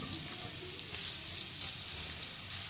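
Onions frying in a pan as the base of a daal gosht gravy: a steady, soft, even sizzle with faint crackles, close and unbroken for a few seconds, with no talking.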